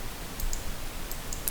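A few light keystrokes on a computer keyboard as a command is typed at a prompt, quiet and sparse clicks over a faint room hiss.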